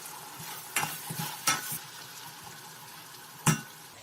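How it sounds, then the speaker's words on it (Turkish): Quiet kitchen bustle with a few sharp clinks and scrapes of a spoon against a pot of green beans and chopped tomatoes, over a faint steady simmer. "rengi dönen fasulyelerin üzerine doğradığım domatesleri ekliyorum."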